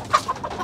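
A chicken being caught clucks in a quick series of three or four short, close calls.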